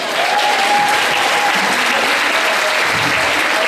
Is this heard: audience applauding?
yes